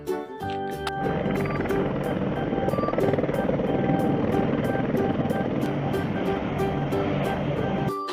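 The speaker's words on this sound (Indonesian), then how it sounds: "Wah, lihat. Ada helikopter." A helicopter whirs loudly and steadily with a faint rhythmic chop running through it, starting after a brief moment and continuing alone with no talking.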